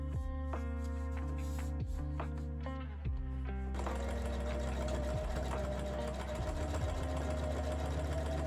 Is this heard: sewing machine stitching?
yes